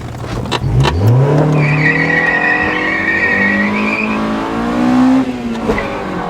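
A Rolls-Royce limousine engine revs hard and drones at high pitch while tires squeal loudly, burning rubber, the screech sustained for several seconds before easing off.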